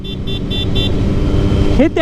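A motorcycle horn honks on a rural Ohio country road, several short beeps over the steady drone of the engine and wind, ending in a sharper squeal, loud and close.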